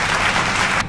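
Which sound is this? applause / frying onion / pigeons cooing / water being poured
applause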